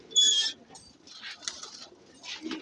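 A pigeon coos in a few soft, close bursts, with a murmuring voice partly beneath them.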